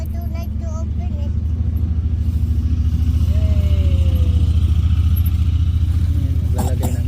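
A vehicle engine rumbles close by and swells slightly as it passes, with a faint clatter, while people talk and a high-pitched voice rises over it near the end.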